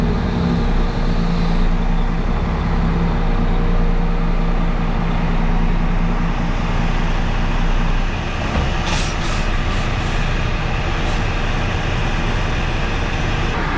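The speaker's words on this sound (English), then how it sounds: "so now I'm going to pull up to my next" A grain truck rolls up to a bin hopper during corn harvest, its engine a steady loud rumble close by, with a brief hiss of air near the end.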